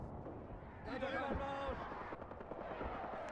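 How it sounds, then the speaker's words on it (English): Mortars launching and shells exploding in the WWII tank game Graviteam: Fateful Strike: dull thumps and crackling blasts in the mid-distance, with brief muffled voices mixed in. "You can see our mortars going off, launching them."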